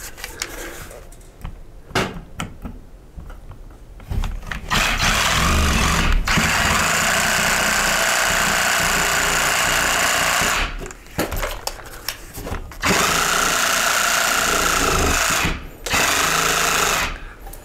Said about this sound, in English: I've started cutting my hole now with the sawzall.